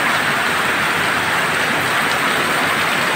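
Heavy rain pours steadily onto dry, parched ground, a dense, loud hiss that holds level throughout without a break, close and unbroken, with no voices over it.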